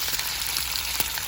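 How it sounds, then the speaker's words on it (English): Bacon sizzles in a hot pan of rippling grease, a soft, steady crackle with scattered sharper pops, close and fairly quiet, with no talking. "Nice little sizzle on that bacon."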